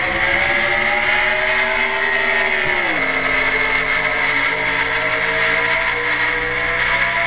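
Race car engines in a NASCAR racing video game drone loudly and steadily, the pitch dipping briefly as one shifts before the roar resumes.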